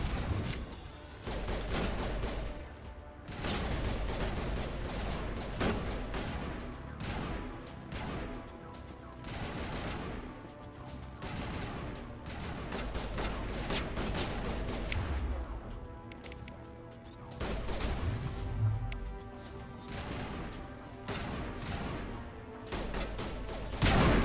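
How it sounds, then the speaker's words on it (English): Assault rifle fire in the game Mass Effect Legendary, an infiltrator build, with dense repeated shot bursts and impacts running nearly the whole time, loud and close amid game combat noise. "let's see if we can handle an assault rifle"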